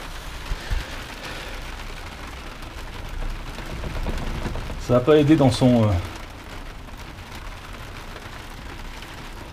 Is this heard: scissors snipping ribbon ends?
no